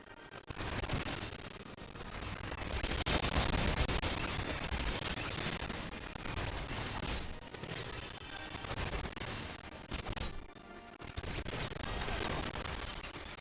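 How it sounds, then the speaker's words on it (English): Magitek missiles fire in Final Fantasy XIV, a loud, sustained volley of crackling blasts and impacts. The bursts surge and dip in waves, with one short lull before the barrage picks up again. "Magic tech missiles."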